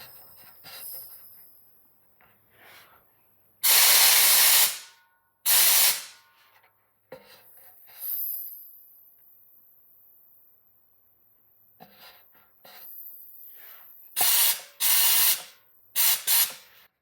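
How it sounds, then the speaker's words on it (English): Air compressor salvaged from the trash, with the regulator set to about 80 psi after cutting off at 150, giving sharp loud bursts of hissing air release between quiet stretches and faint mechanical clicks. "I've got a compressor working that I picked up out of the trash"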